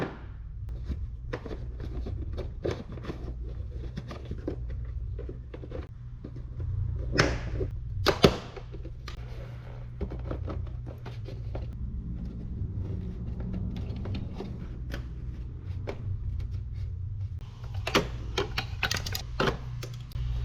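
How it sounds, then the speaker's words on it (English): Interior trim panels on a Subaru Outback being unclipped: scattered plastic clicks and snaps with a couple of louder pops, over a steady low hum, close, no talk. "we're going to be unclipping and working our way towards the rear"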